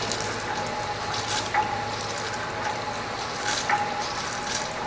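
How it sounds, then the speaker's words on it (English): A TPA Tiger airless paint sprayer primes its line with paint, giving a steady mechanical hiss broken by a few sharp, ratchet-like clicks spaced about two seconds apart. "So now we're going to prime the line with paint."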